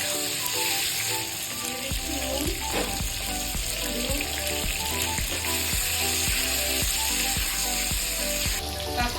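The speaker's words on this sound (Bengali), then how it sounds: "এখন আমি কাঁকরোলটাকে ভেজে নিচ্ছি" Teasel gourd (kakrol) frying in oil in a pan: a loud, dense, continuous sizzle. It stays steady throughout and is broken by regular soft knocks and scrapes.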